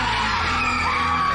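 Riders on a fast carnival ride at the Houston rodeo yell and scream together, a dense, loud crowd of shrieks and whoops filling the whole short stretch without pause.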